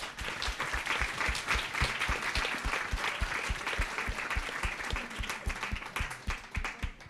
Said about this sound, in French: je pense qu'on peut terminer sur des applaudissements